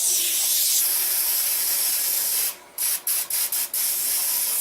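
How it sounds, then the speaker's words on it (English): Gun cleaner sprayed from an aerosol can onto cleaning patches for a semi-automatic shotgun, a long close hiss followed by about five short rapid bursts. "Now you take your cleaner and you spray it on some patches"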